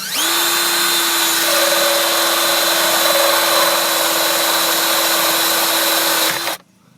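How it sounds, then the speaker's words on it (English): A power auger whines steadily at high speed for several seconds, loud and close, drilling a 3/4-inch hole in a 2011 Honda CR-V, then cuts off abruptly. "So we'll just quickly drill with the power auger."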